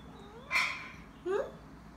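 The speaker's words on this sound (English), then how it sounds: "Are you mewing again?" Two short meows from a cat, a rising cry followed by a shorter one, fairly close with quiet pauses around them.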